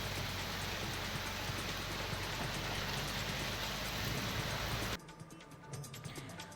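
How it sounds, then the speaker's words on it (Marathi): Heavy night rain falls in Mulund as a dense, steady roar for about five seconds, then gives way to quieter, patchier dripping and splashing. "मुलुंडमध्ये रात्री पुन्हा जोरदार पावसाला सुरुवात झाली"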